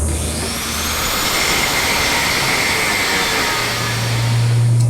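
A 4.5-inch angle grinder fitted with a flap wheel cleans up metal in a steady, loud, continuous whine. The tone shifts slightly as the wheel presses into the workpiece, and no one speaks.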